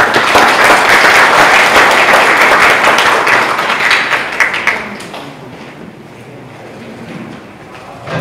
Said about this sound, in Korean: 좋은 말씀 해주시고 수고해주신 시장님께 다시 한번 박수 부탁드립니다